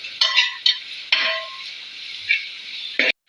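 Tomato, onion, green chili, ginger and garlic sautéed in a pan with rock salt, heard as a soft steady sizzle broken by a few clinks and scrapes of a spoon against the pan.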